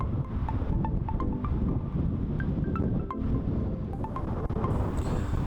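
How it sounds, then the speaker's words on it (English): Strong wind buffeting the microphone outside Newcastle United's football stadium on Barrack Road, a constant loud low roar with gusty rumble throughout and faint tonal whistles above. "It's really windy, so I apologise again"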